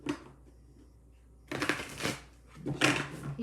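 Two quick bursts of tarot cards being shuffled, close and crisp, separated by a quiet pause.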